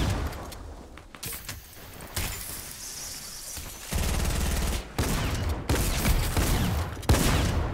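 Rapid bursts of gunfire in the video game Fortnite, loud and close, with sharp cracks and dense volleys that repeat through the stretch, separated by brief gaps.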